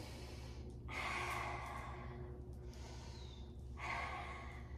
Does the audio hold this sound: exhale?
yes